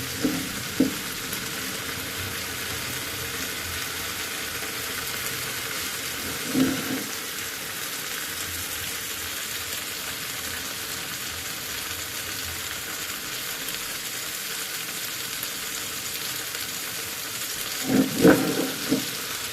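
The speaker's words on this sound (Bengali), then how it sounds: "এভাবে ঘুরে দিতে হবে, ঘুরে ঘুরে হচ্ছে ভাজতে হবে" Food frying in a pan and stirred around, a steady soft sizzle throughout with a few brief scraping stir sounds, fairly quiet and close, no voices.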